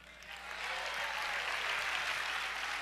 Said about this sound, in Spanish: Y esos jóvenes se merecen un aplauso